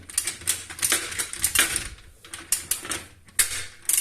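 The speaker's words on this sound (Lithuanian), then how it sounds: "Įmam raktą ir čia, aišku, vieną ranką nepatogu, bet statai ir suki." A ratcheting wrench turns bolts while a grinding-machine cabinet is assembled, giving a close run of quick metallic clicks in uneven bursts with short pauses between strokes.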